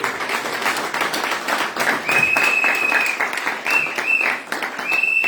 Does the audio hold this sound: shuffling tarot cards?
no